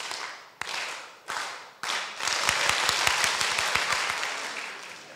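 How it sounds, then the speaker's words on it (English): Audience at a social entrepreneurship and philanthropy conference claps together in rhythm, at first in three separated bursts and then in a quick, steady run of sharp, evenly spaced claps, loud and close with no talking. "I will do, and you clap at the rate at which I go."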